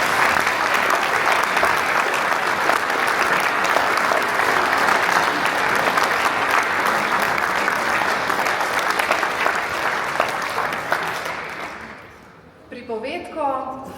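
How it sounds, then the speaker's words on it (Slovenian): Strong, sustained applause from a concert audience after a Christmas and New Year wind orchestra performance, a dense roar of clapping that fades out near the end, followed by a brief voice. "za popotnico in varno pot domov še močan aplavz"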